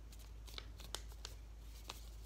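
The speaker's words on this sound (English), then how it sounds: "Fold it again." Paper folded again while making a paper lightsaber: a quiet sequence of short crisp crinkles and creases, irregularly spaced and close, over a low background hum.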